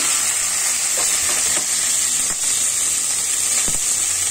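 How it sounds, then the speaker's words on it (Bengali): Onion leaves and chopped onions hit hot oil with whole cumin, giving a loud, steady, close sizzle and hiss with a few faint stirring knocks and no voices. "পেঁয়াজ কুটা এগুলো দিয়ে দিচ্ছি।"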